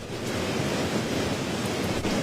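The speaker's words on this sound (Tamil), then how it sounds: "அதாவது காற்று என்பது தற்பொழுது பலத்த காற்று வீசிக் கொண்டிருக்கிறது." Strong cyclone wind from Cyclone Vardah batters the Pulicat coast near Chennai, a loud, continuous broadband roar with surf-like surges, steady and close without pause or speech.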